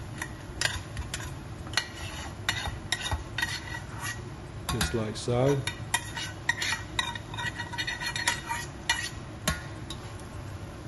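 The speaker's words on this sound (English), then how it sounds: "So we're basically gently frying the rice" Rice gently frying in a pot for lamb biryani, stirred with a utensil that scrapes and clinks against the metal in repeated strokes over a faint steady sizzle, with a brief spoken comment.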